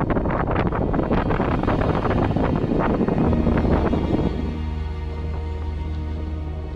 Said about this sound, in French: en plus on a le vent de face là